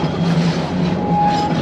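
The Serengeti Express train ride at Busch Gardens Tampa gives a steady, loud rumble of rail cars rolling, with a faint tonal squeal on top and no voices.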